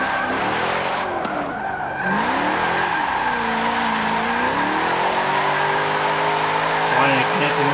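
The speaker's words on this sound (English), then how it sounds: "Look at that, spinning the tires. All the way to fourth gear, fifth gear." A 2003 Holden Commodore drift build in Forza Motorsport 7 revs hard through the gears, engine pitch climbing and dropping with each shift, while tires spin and squeal under steady throttle; someone talks over it throughout.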